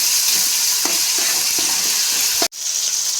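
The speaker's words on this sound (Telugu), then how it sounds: "టమాటాలు బాగా మగ్గనిచ్చేంత వరకు కలుపుకోవాలి, మగ్గిపోవాలి" Tomatoes stirred and frying in a pan with a steady sizzle and scraping strokes, close and loud, cut by a brief drop to near-silence before the sizzle resumes.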